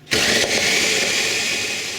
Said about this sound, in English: the whole thing in a food processor or a blender